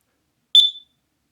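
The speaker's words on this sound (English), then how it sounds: "push that test or hush button. And you can see right there how loud that alarm is" A single short, piercing electronic chirp from an X-Sense carbon monoxide alarm pressed into test mode, sharp and close, ringing out briefly against silence.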